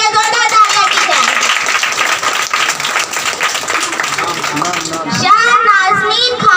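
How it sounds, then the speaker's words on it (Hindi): Applause from an audience of children and adults at a school prize distribution for a drawing first-prize winner, a dense, loud burst of clapping mixed with children's chatter that stays steady before trailing off. "उनके लिए जोरदार तालियां की जाए"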